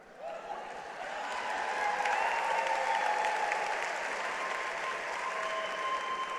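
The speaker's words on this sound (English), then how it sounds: "we encourage you to applaud anytime you see your graduate" Sustained applause from a graduation ceremony audience cheering graduates as they cross the stage, building after half a second into a steady, dense wash of clapping that holds to the end.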